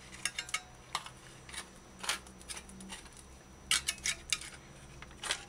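Someone opens a can of ackee, making quiet metallic clicks and a short run of scraping, tapping bursts, close and faint, with no talking.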